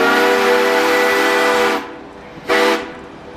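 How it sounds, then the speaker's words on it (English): A steam train whistle on the Georgetown Loop Railroad blows one long, loud, tonal blast, then a short second toot after a brief gap, close and clear with no talk. "that whistle indicates we're about to cross over the Devil's Gate High Bridge"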